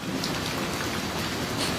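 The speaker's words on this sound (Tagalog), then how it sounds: "Magpayong ka, malakas ulan." Heavy rain pours steadily, a dense, loud hiss of drops hitting surfaces with no pauses.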